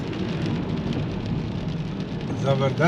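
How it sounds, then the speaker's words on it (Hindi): Heavy rain during a car journey through Europe toward the Croatian border, a steady dense wash of rain over the low rumble of the moving vehicle, with a brief voice near the end. "तो उसी तरह मौसम है, बारिश चल रही है"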